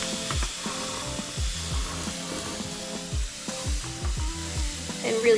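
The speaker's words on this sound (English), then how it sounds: "Let's just add some sand into this area to bulk it up." Sand being poured and scooped into a freshwater aquarium setup, with repeated gritty pours and soft scraping thuds at an uneven pace, close and moderately loud, with no voices.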